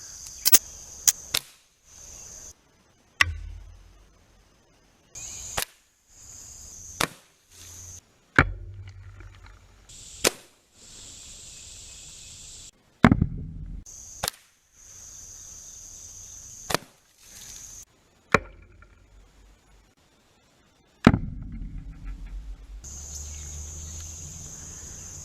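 Crosman .177 Stealth and .22 Genesis pellet guns fired into blocks of soap, a dozen or so sharp, sudden cracks spaced unevenly apart, each followed by brief low thumps and handling noise, with a steady faint high hiss in the quiet gaps.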